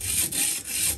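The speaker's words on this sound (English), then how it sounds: "And we're going to start sharpening." A knife blade drawn across a stone on a TSPROF Kadet Pro sharpener, three close, even rasping strokes with short gaps between them.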